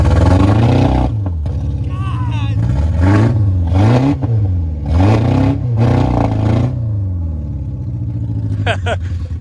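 A 2020 Ford F-150 Platinum engine in cold winter weather revs repeatedly, loud and close, with rising and falling pitch across several rhythmic pulls and a few brief voice fragments.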